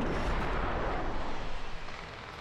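A Javelin missile firing in a video game, a loud, close, roaring whoosh with a heavy low rumble that holds for a couple of seconds before fading slightly.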